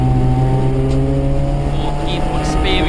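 Onboard a race car in the Classic Hatch race at Brands Hatch, with a steady, loud engine drone and layered harmonic hum filling the clip, and faint commentary speech beneath.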